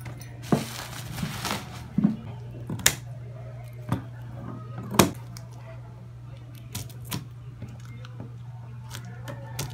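Packaging being opened for a pair of light gold 1.4-size Mutakin RCB mags for a Wave 110 motorcycle: sharp tearing and crinkling bursts over a steady low hum, close and fairly loud, without speech.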